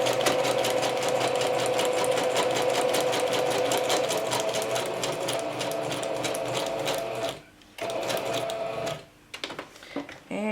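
A sewing machine stitches a vellum scrap pouch in a fast, even mechanical chatter, loud and close, running steadily before stopping twice in short pauses near the end.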